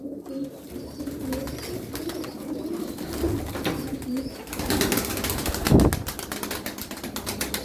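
Pigeons coo in a loft, including Miski, Nuhudi and Çingene Mavi breeds, in low repeated burbling calls, joined near the end by a loud flurry of wing flapping and cage rattling.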